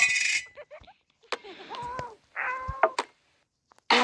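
Cat meowing in the FDMC Cat Simulator video game, several short clear meows separated by pauses, close and fairly loud, mixed with brief clicks and hisses of game noise.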